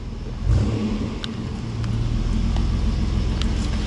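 A Chevy Blazer with a 4.3 engine and all-wheel drive, just repaired after three months standing, revs up with a thump then holds a loud, steady, deep rumble close by, with no talking.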